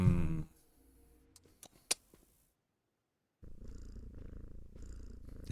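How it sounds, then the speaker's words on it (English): A Cheshire Cat character purrs in the video game Flintlock: a low, steady rumbling purr at close range, stopping briefly for a short pause with a few faint clicks, then resuming loud and continuous to the end, with no talking. "The Cheshire Cat"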